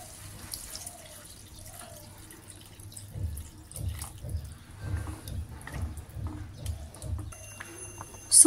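Water poured into a pot of softened tomatoes for tomato soup, a quiet splashing and trickling that swells in gentle bursts, close and faint with no voices.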